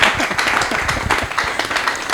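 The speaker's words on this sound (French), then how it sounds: "Vos applaudissements s'il vous plaît." Dense audience clapping fills the whole stretch at a comedy show in Lubumbashi, steady and broadband, a crowd applauding together without pause.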